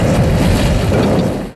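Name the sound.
movie explosion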